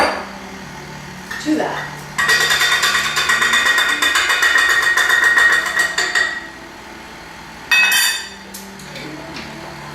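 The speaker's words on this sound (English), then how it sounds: "as that's mixing in the blender, I'm going to add this applesauce" Blender whirring loudly for several seconds as it mixes banana bread batter with applesauce, stopping and then giving a brief second burst, with a voice speaking around it.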